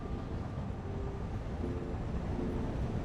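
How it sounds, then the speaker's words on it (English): An iron-hauling train in the Satisfactory video game rumbles past with a low, steady mechanical drone and faint tonal whines, quiet and continuous in the game's factory setting with no talk over it. "There's the iron train."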